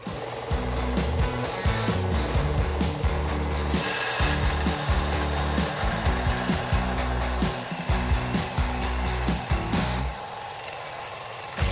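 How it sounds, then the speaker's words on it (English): Belt sander flattening a wooden surface, a loud close motor drone with rhythmic rasping surges as the belt is pushed back and forth across the wood, running almost continuously before dropping off near the end. "I'm going to attempt using my belt sander."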